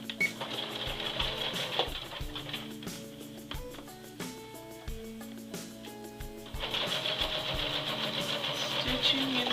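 A sewing machine stitching in the ditch where a women's pants waistband meets the pants, running in a steady mechanical whir with short pauses and restarts, close by.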